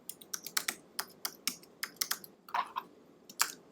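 Fingers tap out bursts of keystrokes on a computer keyboard, quick irregular clicks close to the microphone, with short pauses between runs and no voices.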